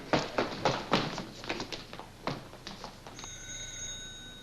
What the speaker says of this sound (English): That phone's been ringing ever since we got here.